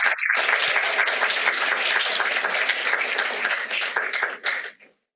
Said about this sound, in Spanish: Me sumo a los aplausos